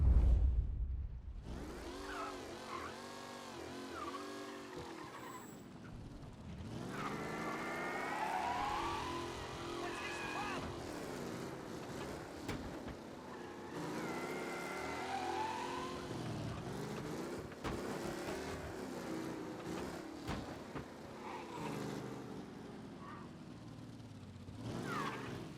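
An old car from the Mafia remake setting drives along, its engine rising and falling steadily through the whole stretch, fairly close and continuous, with no talk over it.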